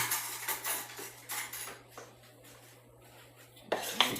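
A spoon scrapes and clinks against a bowl while mixing lemon pound cake batter, with quiet rhythmic strokes in bursts, a lull in the middle and a sharper knock near the end.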